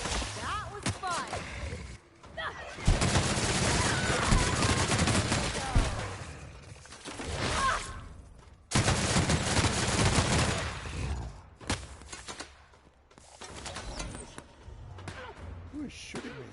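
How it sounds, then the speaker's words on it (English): Gunfire in The Outer Worlds: repeated bursts of rapid shots and heavy impacts come in loud waves broken by short quiet gaps, with talk heard in between. "Who is shooting me?"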